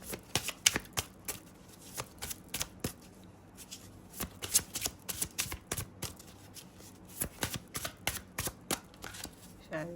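Tarot cards shuffled for a reading, a close run of crisp riffling bursts and soft slaps in uneven clusters, fairly quiet against a steady low hum with no talking.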